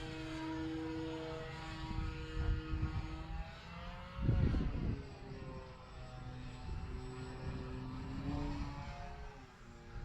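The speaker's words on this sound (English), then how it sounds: "What a sweet flying plane." Dancing Wings Hobby Stick 14 RC plane flying outdoors, its propeller giving a continuous buzzing drone with harmonic whine that rises and falls in pitch as it passes, fairly close and with no talking.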